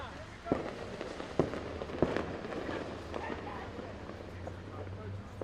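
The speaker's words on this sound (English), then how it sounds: "The fireworks becoming more and more as we go throughout this night as it's gotten dark." Fireworks bang at night during a baseball game, sharp distant pops at about 0.5, 1.4 and 2 seconds over steady crowd and ballpark noise, with a low hum toward the end.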